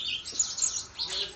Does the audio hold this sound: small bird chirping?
yes